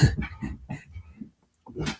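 A dog gives a quick run of short, mid-loud barks and pants, pauses briefly, then makes one more burst, with no talking.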